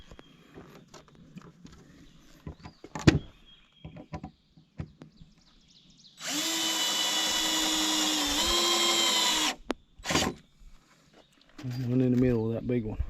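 A power drill drives the first screws into a log cabin porch at a backwoods camp, a loud sustained whir of about three seconds that shifts pitch midway, followed by a short second burst among quieter handling knocks and brief talk.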